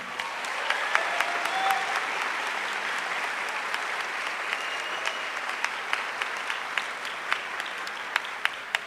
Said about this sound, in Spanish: quiero pedirle un gran aplauso muy cordial por los conductores de este debate, Belén Pellegrini y Alejandro Guillén.